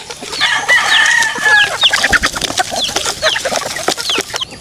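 Hazel cross chickens cluck loudly and close by while being fed, with busy overlapping calls and a few crow-like cries among scattered pecking sounds.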